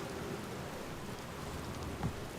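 Rain in the video game Outer Wilds falls as a faint, even hiss of steady downpour, with a soft low rumble beneath and no talking.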